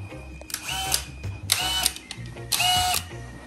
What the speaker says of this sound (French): ça marche avec une perceuse